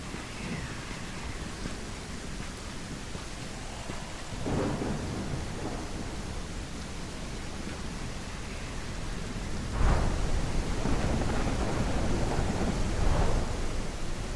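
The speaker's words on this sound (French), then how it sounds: "il y a une tempête qui arrive" A thunderstorm with steady rain in the video game Beyond Hanwell, continuous downpour hiss broken by several low thunder rumbles, one louder roll building near the end, no voices.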